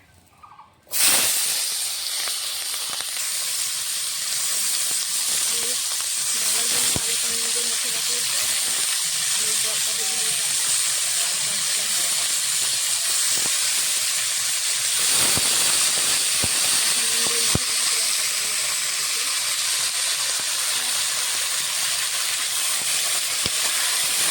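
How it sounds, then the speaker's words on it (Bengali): Salted potatoes are dropped into hot oil, and a loud, dense sizzle bursts in within the first second and then hisses on steadily and close for the rest of the clip. "তেল গরম হয়ে গেছে আমি আলুতে নুন দিয়ে মেখে রেখেছিলাম আলুটা দিয়ে দেবো এখন"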